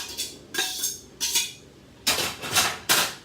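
Ramen noodles tossed into a pan, with several bright clattering bursts of contact and scraping, moderately loud and close, separated by short quieter gaps.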